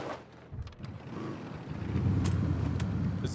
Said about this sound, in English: That was my bike making that noise.